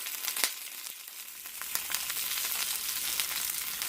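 Zucchini frying in a pan give off a steady sizzle with scattered sharp crackles and pops, close and fairly quiet, with no talking.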